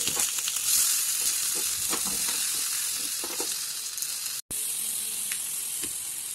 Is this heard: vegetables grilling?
yes